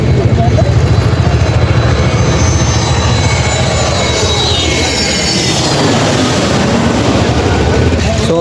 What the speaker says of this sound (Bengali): আরেকটা বিমান ল্যান্ড করতেছে 7 নাম্বার